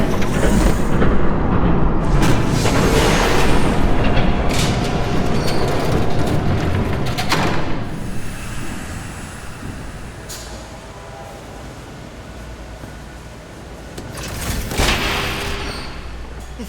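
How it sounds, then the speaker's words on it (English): A train rumbles past in the Batman Telltale Series video game, a loud sustained roar that swells, fades through the middle and surges again near the end, with no talk. "There's a train coming."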